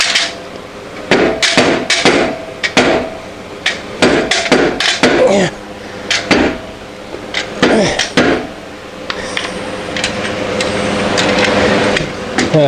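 Repeated hammer blows during bookcase construction, loud and close, landing in irregular bursts of sharp strikes with short pauses, some quick double hits, and a stretch of clattering and scraping of wood and tools near the end.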